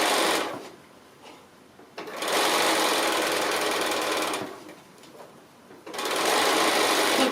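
A sewing machine stitching a small fabric gift bag, running loud in steady whirring bursts with brief quiet pauses between runs.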